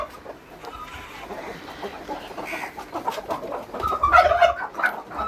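Chickens cluck softly and intermittently nearby, with a few louder, higher clucks toward the end over a low rustling background.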